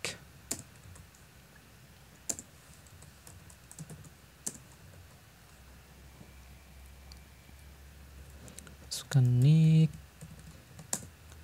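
Java code is typed on a computer keyboard, rapid scattered key clicks at close range, with a short burst of louder tonal sound near the end.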